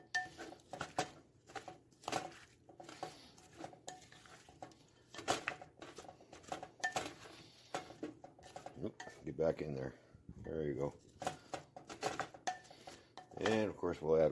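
Seasoned roaster potatoes tossed with Parmesan spice in a dish, with rapid clattering of a utensil against the dish in busy bursts, close and quiet, with a voice speaking in places.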